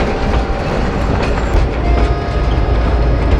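An old-style restored train in Dalat, Vietnam rumbles steadily along the tracks with a loud, continuous roar and faint clattering of wheels, no voices.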